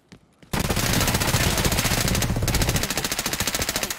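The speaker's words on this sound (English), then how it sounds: "I shot you there, though." A SIG MPX submachine gun fired in Escape From Tarkov, one loud sustained full-auto burst lasting over three seconds with a rapid, even cadence, close and dominant, following a couple of faint sounds at the start.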